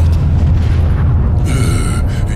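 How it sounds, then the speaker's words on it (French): A deep, heavy boom rumbles loudly and close, followed by a lingering roar and crackle like a cannon shot. "c'était... un canon."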